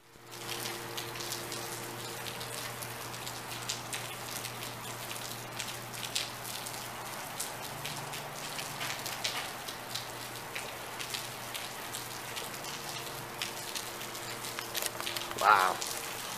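Steady heavy rain hisses throughout, a dense wash of drops with a low hum underneath and occasional faint movement noises.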